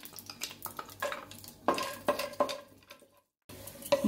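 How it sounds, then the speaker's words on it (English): Cashew nuts roasted in oil and ghee, with close spoon scrapes and clinks against the pan over a soft sizzle, irregular stirring strokes and a brief pause. "in the same oil, I'm going to roast these cashew nuts"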